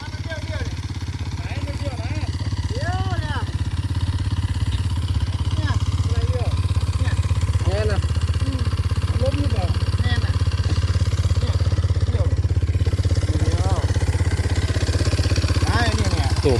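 A 230cc dirt bike engine runs at a steady, throaty idle that stays close and loud throughout, while people talk over it.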